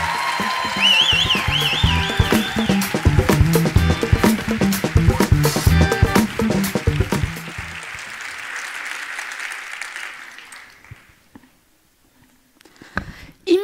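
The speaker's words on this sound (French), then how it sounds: "Je vous demande un tonnerre d'applaudissements pour Salma Daoufa." A thesis-competition audience gives a speaker a thunderous, dense round of applause with cheers and whistles, loud and sustained for about eight seconds before thinning out and fading to near silence, then a few scattered claps.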